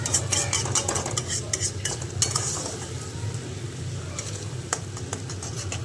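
Ground red chilli and ginger paste fries in oil with a splash of water, a close sizzle mixed with scraping stirs and metallic pan clinks, louder at first and then settling.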